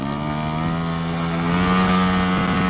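A loud, steady engine drone with a buzzing harmonic tone that rises slightly in pitch partway through, a modified Vespa scooter engine revving close by.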